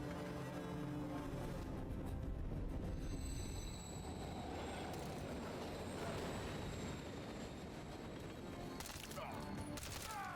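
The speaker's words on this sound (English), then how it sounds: "Another train coming." A train rolls past in Call of Duty Modern Warfare III, wheels squealing on the rails over a loud continuous rumble of cars, with sharp metallic screeches near the end.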